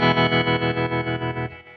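An electric guitar runs through an AmpliTube Fender amp simulation with tremolo, sustaining a chord that pulses in a steady, even rhythm of about eight beats before it fades out.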